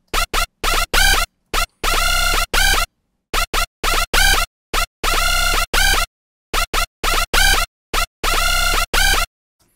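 Hardstyle PWM screech synth notes made in Sytrus play as a loud, harsh, buzzy lead in short stabs and longer held notes, forming a choppy rhythmic riff with no talk.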